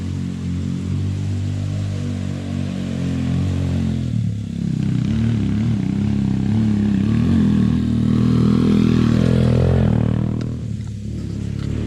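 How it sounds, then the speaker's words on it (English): A motorcycle engine drones and grows louder as it approaches, its pitch shifting as it climbs, with no talking. "Sounds like we have more motorcyclists coming up."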